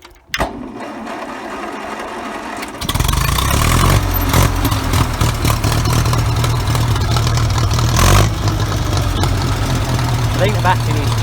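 A Massey Ferguson tractor with a weak battery cranks sluggishly, then its engine catches and settles into a steady, loud idle that runs to the end, close to the listener.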